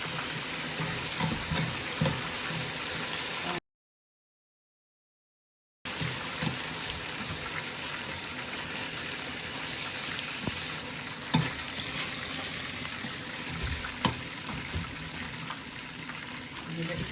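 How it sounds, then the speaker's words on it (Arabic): Washed, drained rice sizzles as it goes into a pot with a spoonful of butter and a little oil, a steady broadband frying hiss with occasional stirring clicks, close and fairly loud, briefly cut to silence partway through. "ده الرز بعد ما غسلناه وصفيناه هننزله اهو، ودي معلقه زبده وشويه زيت صغيرين"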